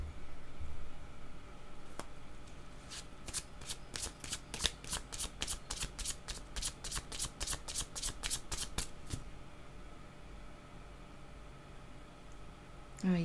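A deck of cards is riffled in a rapid run of crisp flutters lasting several seconds, close and clear over faint background hiss, with a single snap before it and a soft rustle afterward.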